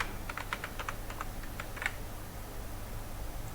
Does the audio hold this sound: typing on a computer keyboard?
yes